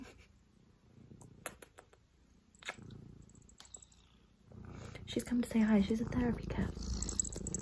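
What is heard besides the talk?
cat purring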